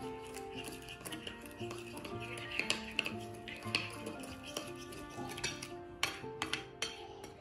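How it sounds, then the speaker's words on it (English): Salad dressing of sugar and salt being stirred in a bowl, with irregular clinks and taps of a utensil against the dish and a few sharper knocks near the end, fairly close and with no speech. "Now let's mix all very well."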